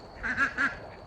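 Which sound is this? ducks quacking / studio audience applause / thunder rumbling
ducks quacking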